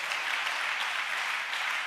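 A congregation clapping at a church service: a steady, dense wash of many hands clapping together, distant and fairly soft, with no voices on top.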